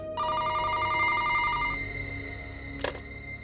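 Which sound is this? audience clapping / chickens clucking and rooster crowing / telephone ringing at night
telephone ringing at night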